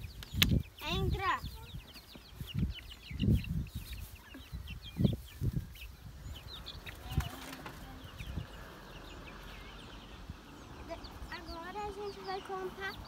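Chicks peeping around a house, high thin chirps scattered throughout, with louder clucking and rustling up close while people talk over them.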